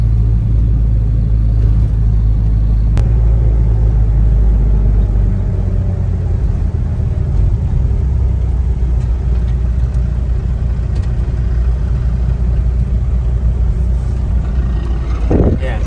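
A Nissan Versa van engine idles in bumper-to-bumper traffic, a steady close low rumble and road hum throughout, with a sharp brief click early on.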